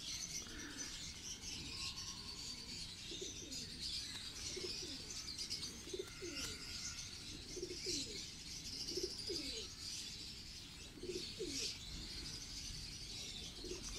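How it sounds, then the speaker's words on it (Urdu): Ferozpuri pigeons cooing in soft, repeated low coos through the clip, steady and moderately near, over a constant background of chirping birds and ambient noise. "یہ کبوتر بھی فیروز پوری کبوتروں میں سے بنا"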